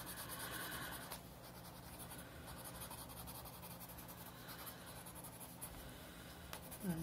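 Colored pencil shading on paper, darkening leaves and the edge of a sheet with a dark pencil; a steady, soft scratchy rubbing that continues evenly close to the microphone, with no talking.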